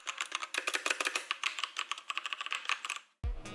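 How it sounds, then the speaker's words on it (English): Fast, steady typing on an Azio MK Mac wireless mechanical keyboard, with crisp, close clicky keystrokes in a quick run that stops abruptly, followed by a short low thump. "So what I like about mechanical keyboards is the feedback and sound it makes, and this keyboard is no different."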